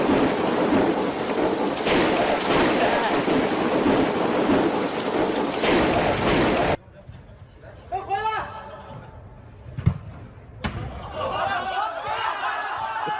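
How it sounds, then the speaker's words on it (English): Giant hail pounding down on a city in China, a dense roaring clatter that cuts off abruptly, followed by people talking over fainter hits and a sharp thud. "a city in China was getting hit by these giant pieces of hail"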